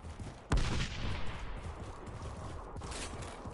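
Gunfire in the video game Outriders: a sharp, loud burst of shots near the start, followed by a fainter second report later, over a low steady game ambience.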